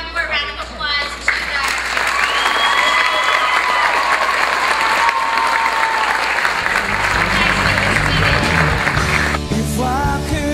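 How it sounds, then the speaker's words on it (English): Loud audience applause and cheering at a school reward ceremony, sustained clapping from a crowd while music with singing plays underneath. "Can you give one more round of applause to the"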